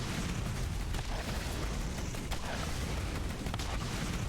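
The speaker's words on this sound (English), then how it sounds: "explosions do barely anything to these guys" Explosions in the video game Borderlands GOTY Enhanced: a dense, unbroken roar of blasts and crackling bursts, loud and heavy for several seconds with no pause.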